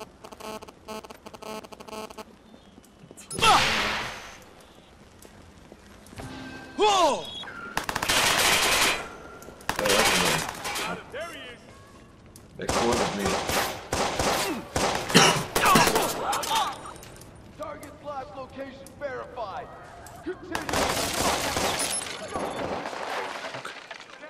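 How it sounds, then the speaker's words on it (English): Gunfire from the video game Watch Dogs on PS4: repeated loud bursts of automatic fire and single shots with shattering impacts, spread across the stretch with short pauses between volleys. "Alright, I need to shoot him."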